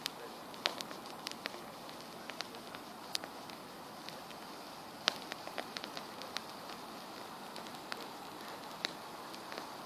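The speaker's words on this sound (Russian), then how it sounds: "Например, звук костра." An outdoor wood campfire pops and crackles with scattered sharp snaps over a steady soft hiss. The sound is quiet and close.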